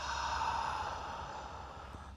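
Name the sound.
deep exhaling breath during yoga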